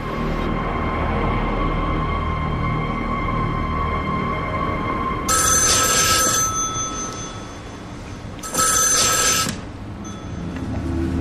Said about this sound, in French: Belva, la mère de Randy, lui téléphone